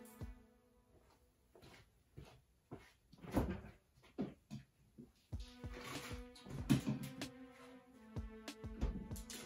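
Freezer in a dirt bike workshop opened to take out a chilled swing arm bearing: scattered quiet clunks, knocks and rustles, then a low steady hum under further handling noises.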